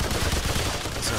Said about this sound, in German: Ich schieß jetzt mal.